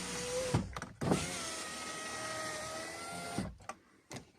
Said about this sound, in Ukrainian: Стеклопідіймач працює.